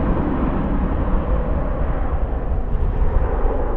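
A jet airliner departs at DFW airport at night, a loud, steady broadband engine roar that stays level throughout with no talk.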